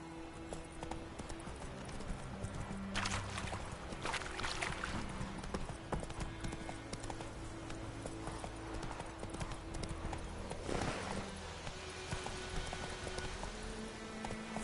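Hooves of Roach, the horse in The Witcher 3, clopping in a steady rhythm at moderate distance under game music, with rain-like patter and a few louder bursts of ambient noise.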